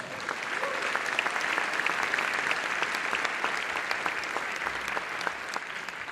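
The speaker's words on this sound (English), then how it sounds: "So give yourselves a round of applause." Sustained applause from a concert audience at a band performance, a dense, even wash of many hands clapping at a moderate distance that holds steady for several seconds.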